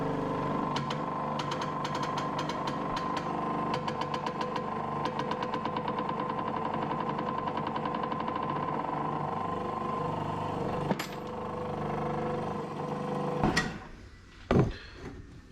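A pump rattles and chugs rhythmically up close while it presses the old drive off a gear on a VW diesel cylinder head job. Near the end the pump stops and a few sharp knocks and clunks follow.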